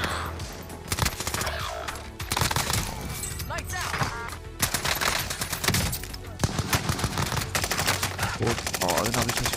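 Rapid EM2 rifle gunfire in the video game Call of Duty Warzone on Rebirth Island, loud close bursts of repeated shots over game noise, with a player talking excitedly over the action.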